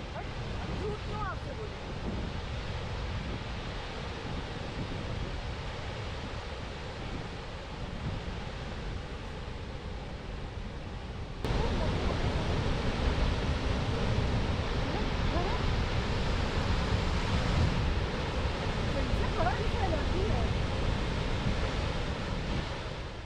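Keoti waterfall in Rewa, Madhya Pradesh, a broad steady roar of falling water heard from a distance, continuous and wind-buffeted, growing slightly louder partway through with no talk.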